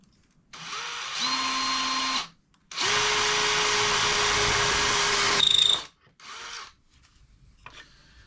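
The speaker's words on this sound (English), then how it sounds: "and then I shall start drilling holes in this board straight down." A power drill bores holes into a wooden board in several loud, sustained whirring bursts of a second or more, separated by brief pauses, with the motor pitch shifting as the bit bites into the wood.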